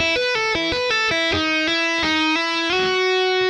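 A distorted, high-gain electric guitar plays a quick riff, full of hammer-ons, pull-offs and slides. Short notes follow each other rapidly and ring loud and close, with no voice over them.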